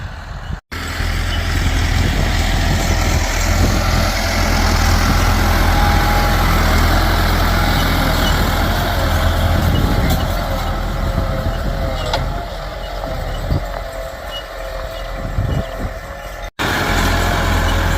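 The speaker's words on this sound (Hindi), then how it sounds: "जो जो ट्रैक्टर खेत को हल लगाता जा रहा है" A tractor ploughs a farm field for sorghum fodder in Punjab, Pakistan, its heavy diesel engine droning steadily and loudly close by for the whole stretch, with no voices over it.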